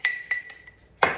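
A spoon works around the inside of a jar of thick, shaggy batter-like mixture, making three light clinks followed by a sharper, louder scrape at the end. The sounds are close and brief, with no talking.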